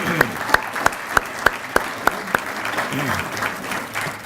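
A hall of fame ceremony audience applauds for Lisa: about eight distinct, evenly spaced claps stand out over a soft crowd murmur, tapering off at the end.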